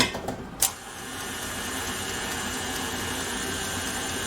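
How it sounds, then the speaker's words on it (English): A KitchenAid stand mixer mixes flour, yeast and water for pizza dough, starting with a few clunks and then settling into a steady, continuous motor whir close by with no talk. "I'm actually going to use our beloved KitchenAid."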